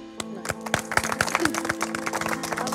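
A small group clapping together in a villa during a reality game show, a moderately loud, uneven run of hand claps with a low steady hum underneath.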